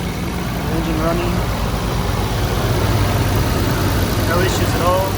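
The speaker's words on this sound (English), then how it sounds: "Engine running." Nissan Skyline R34 GTR engine idling steadily with a Nismo muffler, a dense low rumble with a loud cooling fan, while a person talks over it.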